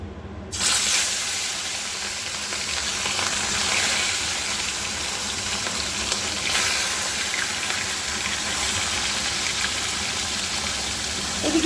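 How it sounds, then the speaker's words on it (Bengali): Rohu fish pieces drop into hot oil in a wok, setting off a loud, steady crackling sizzle that holds up without a break, close and dense, with no talk over it. "তেলটা খুব ভালোভাবে গরম হয়ে গেছে মাছগুলো প্রথমে আগে আমি দিয়ে নিই"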